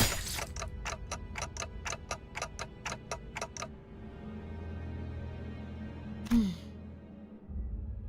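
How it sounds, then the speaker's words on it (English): A clock in the video game Limbus Company ticks in a steady, evenly spaced run of about a dozen crisp clicks, then falls silent over a low background rumble, with no talking. "ticking is all I can hear"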